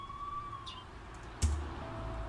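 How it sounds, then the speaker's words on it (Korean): A wailing ambulance siren in a horror video game holds and slowly slides downward, fairly faint under a low engine hum, with a single sharp knock partway through. "앰뷸런스가 떠났다."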